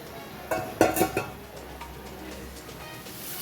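Marinated mutton stirred in a pot, with a few sharp clinks of a spoon against metal near the start and then quieter scraping under a low background hum.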